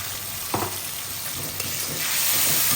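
Spices and oil sautéing in a pan with turmeric and salt, giving a close, steady sizzle with a couple of soft stirring knocks that grows slightly louder at the end.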